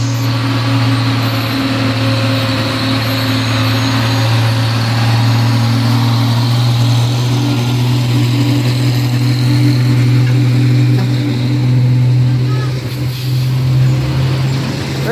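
A Hino truck's engine labours up the steep Bukit Kodo climb, a loud, steady low drone that holds close and unbroken throughout, with no talking.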